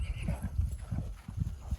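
A grey mare, one of a matched pair of horses for sale, clip-clops close by, her hooves striking in a steady, rhythmic series of dull thuds.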